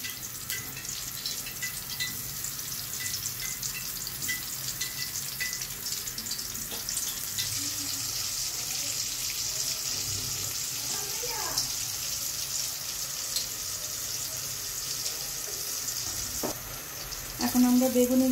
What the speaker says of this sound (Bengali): পটলগুলো ভাজার জন্য দিয়ে দিচ্ছি।